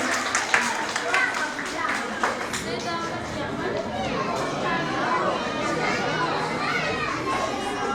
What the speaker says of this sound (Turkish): Şimdi açılış konuşmasını yapmak üzere okul müdürümüz Mehmet Sıraç Fidan'ı yüksek alkışlarınızla sahneye davet ediyoruz.